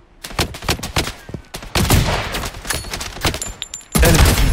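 Dense, rapid gunfire from automatic weapons in the shooter Blood Strike, loud bursts and overlapping shots running almost continuously, with a heavier volley near the end and no talking.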